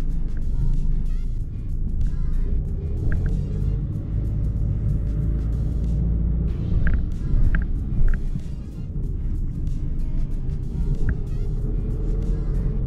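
A Renault Megane drives with a steady low engine rumble and road noise throughout, pulling away and changing gears smoothly, with a few faint clicks from the cabin.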